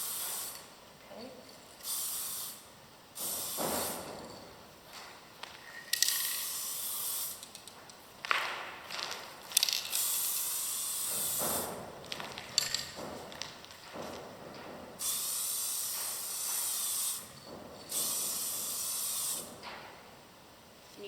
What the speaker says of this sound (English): it's best to start spraying lightly from about a foot away.